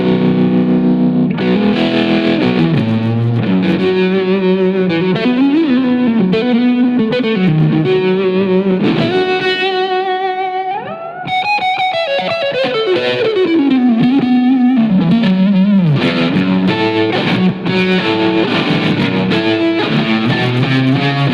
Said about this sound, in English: So I've just put a bit of tremolo on it to give you that kind of effect